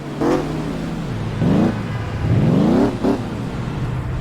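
Engine whines rise and fall in several quick revving bursts in the video game Crash Time 4: The Syndicate, a car straining loudly while being mangled, with a steady motor hum underneath.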